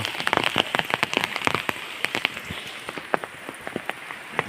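Heavy rain pours down, with dense sharp drops pattering and splashing loudly on a hard surface close by, no voices.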